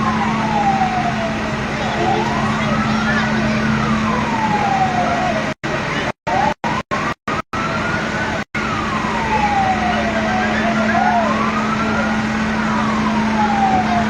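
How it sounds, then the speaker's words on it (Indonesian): Fire engine sirens wail in a loud, sweeping rise-and-fall at an electronics shop fire in Lubuklinggau before dawn, a steady engine drone underneath and a brief stretch of short cut-outs midway. "3 unit damkar turun sementara ini"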